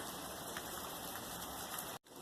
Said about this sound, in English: the deck is wet and there's rain still coming down.